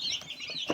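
Twelve-day-old broiler chicks peep and chirp in a close, continuous chorus, with one louder cluck-like call near the end and no talking.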